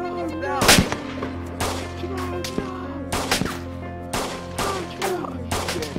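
Gunfire in the DayZ video game cracks out in a series of loud, sharp shots spread irregularly across the stretch, some nearer and some more distant, over a steady game background hum.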